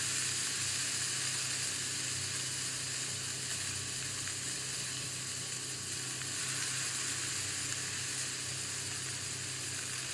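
Potatoes and onions frying together in a small amount of oil, a steady, even sizzle with light stirring, close and continuous with no talk.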